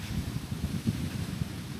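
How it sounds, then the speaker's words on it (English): Strong wind in Bali buffets a microphone with a steady low rumble and gusty swells, no clear voices. "another windy day"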